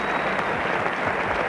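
A cricket crowd applauds and cheers a boundary, a dense, continuous wash of clapping from a large stadium audience heard at a distance.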